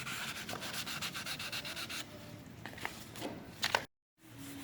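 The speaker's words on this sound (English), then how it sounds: "And now he's on 800 grit, and he's just wrapping things up before buffing." Wooden jewelry box being hand-sanded with 800 grit sandpaper, quick rhythmic rubbing strokes up close, then softer scraping before a brief silence and a low hum.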